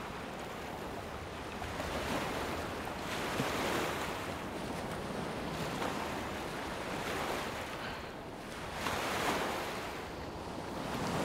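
Sea waves and surf wash steadily along a shore, a broad continuous roar swelling slightly at times, with wind noise buffeting the microphone and no talking.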